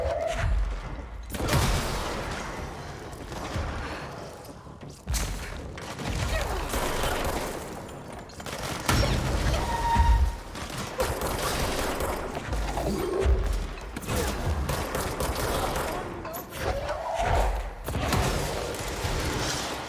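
Gunshots in the video game Control come as scattered sharp bursts and thuds across a long stretch of combat, some loud and close, others quieter, with occasional pauses between volleys.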